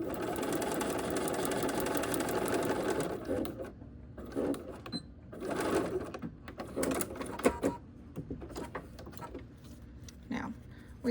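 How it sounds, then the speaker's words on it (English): Sewing machine stitching a foundation paper pieced flying geese quilt block, a steady close whirring run for the first few seconds, then short intermittent bursts of stitching with pauses and light handling noises. "I'm going to sew this other one"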